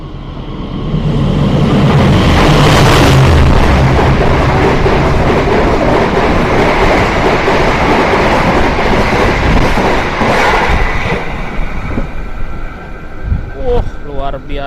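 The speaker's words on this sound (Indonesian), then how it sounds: "Ini dia persiapan akan melintas kereta api Argo Bromo Anggrek, teman-teman." An Argo Bromo Anggrek express train races straight through Pemalang station on track 2 at full speed, a loud sustained roar with rail clatter that builds quickly and holds for about ten seconds before easing into fainter rumble and scattered knocks.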